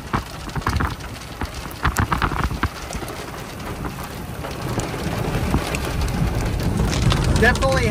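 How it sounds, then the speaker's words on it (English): Big raindrops patter and splash during a hot, humid storm, an irregular close-up drumming that grows heavier and denser toward the end, with a low rumble underneath. "Big raindrops though."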